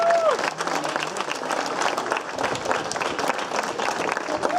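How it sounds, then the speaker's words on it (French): Crowd applause at a women's cycling stage race prize ceremony in France, brisk close clapping from a gathered audience with brief tonal sounds at the start. "On applaudit la Hollandaise Amy Pieters."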